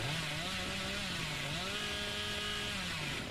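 The Hillbilly's chainsaw from the Dead by Daylight video game revs steadily with a rising and falling motor drone, loud and continuous throughout.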